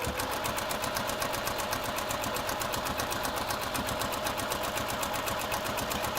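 A sewing machine stitches a seam at a steady, fast rhythmic pace, its needle clatter and motor hum constant and close throughout with no talk.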